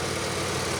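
A GM 3.4 liter 3400 V6 in a Grand Am runs at a steady, rumbling idle, loud and close, with a constant dense drone and no talking.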